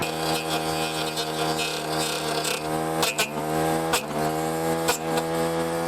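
A Greenworks 80V cordless brush cutter cuts into acacia wood with a steady, high, tonal motor whine, broken by several sharp bites and knocks as the blade strikes the wood, heard close and with no talk.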